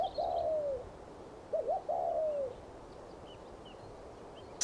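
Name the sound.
spotted dove cooing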